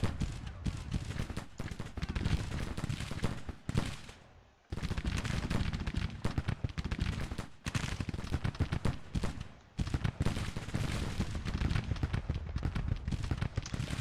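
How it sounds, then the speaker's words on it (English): A brigade's muskets fire in Grand Tactician as a dense, continuous crackle of overlapping volleys, loud and sustained, broken only by brief lulls. "We'll let this brigade open fire now."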